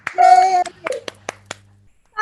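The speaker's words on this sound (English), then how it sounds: "Please put your hands together for clapping, with cheering, with whooping, with shouting, with joy" A comedy club audience at a comedy night gives a short burst of applause with a cheer for a comedian, then a few scattered, separate claps fade out before a voice begins.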